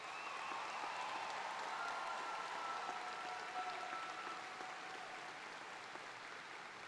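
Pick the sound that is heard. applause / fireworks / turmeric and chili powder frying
applause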